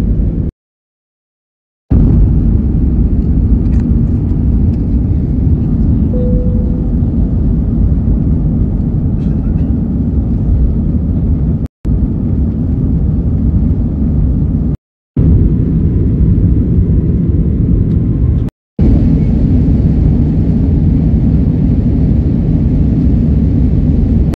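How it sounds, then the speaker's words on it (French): An Air France airliner taking off, heard from the cabin as a loud, steady low roar that holds throughout, broken by a few abrupt cuts to silence. "Décollage imminent."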